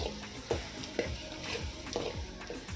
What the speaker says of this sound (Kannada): ನಾನು ಇದು ಉದ್ದಿರುವಂಥ ಕಡಲೆ ಬೀಜನ ಹಾಕ್ಕೊಳ್ತಾ ಇದ್ದೀನಿ ಇದಕ್ಕೆ